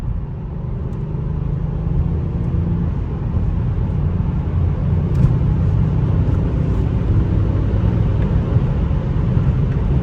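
A Mercedes-Benz E550 V8 drones deep and rumbling under load while shifting through gears, its low growl continuous and loud with no voices over it.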